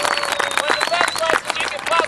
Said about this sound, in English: So give her one more round of applause.